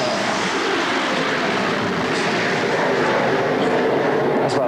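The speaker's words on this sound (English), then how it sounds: "That's about the best takeoff he's done." A training aircraft takes off during military pilot training, a loud steady propeller engine roar holding close and constant throughout.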